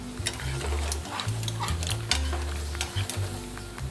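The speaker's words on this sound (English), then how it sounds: "It'll give us a chance for our cherry tomatoes to create a sauce, slowly cooking like that." Seafood and cherry tomatoes sizzling in a pan as they cook down into a sauce, a steady close crackle with scattered pops and low rumbling clatter beneath.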